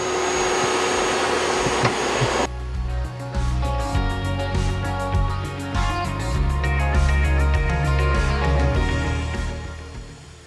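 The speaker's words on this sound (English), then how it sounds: "As Mike starts cutting out the straight cuts of the window" Power tool cutting a window opening in Baltic birch plywood for a camper build, a loud continuous high-pitched whine with a shifting motor drone and buzzing cut tone, close and steady throughout with no pauses.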